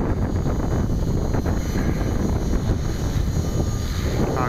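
An Align LH-450 radio-controlled helicopter flying outdoors, a steady loud whirring drone of motor and rotor with heavy wind buffeting the microphone throughout, continuous with no pauses and no talking.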